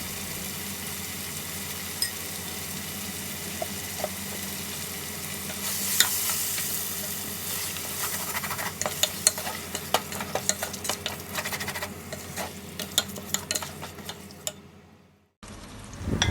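Chopped onions and tomatoes sauté for prawn biryani, a steady sizzle with repeated scraping stir strokes and small clicks of a spoon against the pan; the hiss brightens midway and cuts off abruptly near the end.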